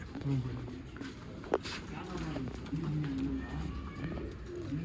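A female pigeon of an old-line breeding stock coos in low, repeated throaty phrases close by, with people talking over and around the calls.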